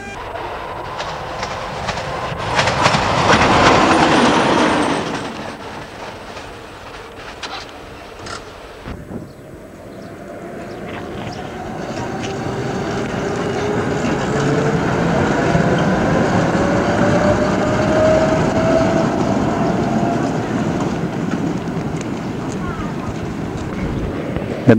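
A Budapest electric train, an automated metro or suburban line filmed in 1991, rolls along its rails with a rising motor whine and a rumbling roll that swells and fades, heard near and loud with gusty wind noise.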